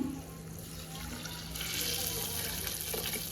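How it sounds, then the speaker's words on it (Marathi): Water pours steadily into a cooking pot holding washed rice for khichdi, a close, continuous running splash that grows fuller partway through in a home kitchen. "त्यामध्ये 1 कप पाणी"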